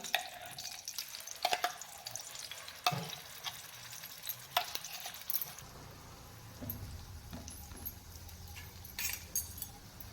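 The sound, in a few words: masala paste frying in oil in a wok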